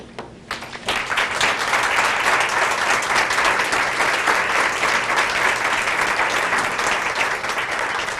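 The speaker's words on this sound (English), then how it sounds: "we're going to give you a round of applause" Dense, loud applause from a commencement audience for young participants in a Cleveland youth program, starting abruptly after a brief pause and continuing strongly throughout.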